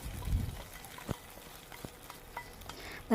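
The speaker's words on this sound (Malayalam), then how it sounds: "ഇപ്പോൾ കറിക്ക് കടുക് താളിച്ചിട്ടുണ്ട്." Mustard seeds, fenugreek, dried chilli and curry leaves sizzle in hot oil for a Kerala buttermilk curry tempering, a soft frying crackle with a few sharp pops and stirring scrapes.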